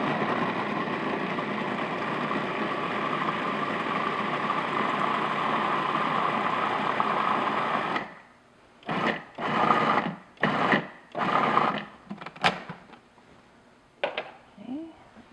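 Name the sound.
food processor blending bananas and vanilla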